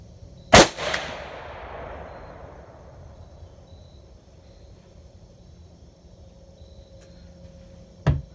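A Ruger Precision Rifle fired at a target, one loud sharp report with a long rolling echo fading over several seconds outdoors, then a second, fainter crack near the end.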